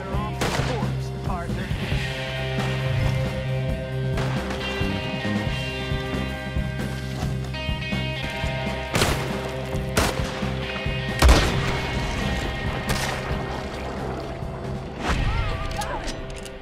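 Gunfire in the video game Red Dead Redemption 2, repeated loud shots and sharp cracks over a droning musical score, with one heavier blast midway and a dense, busy battle texture throughout.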